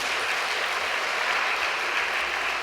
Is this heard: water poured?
no